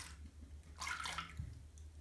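Water from a Pom Noir bubbling bath bomb being swished by hand in a filled bathtub, a brief burst of sloshing and splashing in the middle of a short, quiet stretch with no talking.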